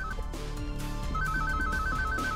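A telephone rings in the video game Project Downfall, with a repeating electronic ring tone heard loud and close over background game music and ambience, with no talk.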